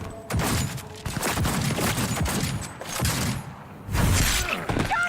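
Gunfire rattles in Cyberpunk 2077, with near-continuous loud volleys mixed with crashing, shattering impacts and a sharp flurry of shots late in the sequence.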